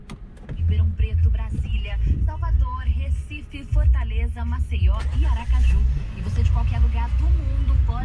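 A Peugeot 208 rental car runs with a low, steady engine rumble inside the cabin, which rises slightly partway through, while people talk over it throughout.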